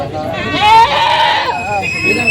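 Goats bleating loudly and close by, a long wavering cry with a quieter bleat trailing after it.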